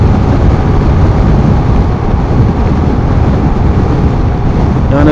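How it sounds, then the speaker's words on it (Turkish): A Yamaha NMAX motorcycle cruising on a highway at around 90–105 km/h, heard as loud, steady roaring wind buffeting and road rumble, continuous and close with no voice. "Bu hızda 90, 100, 105 arası çok rahat gidiyor NMAX artışıyla beraber."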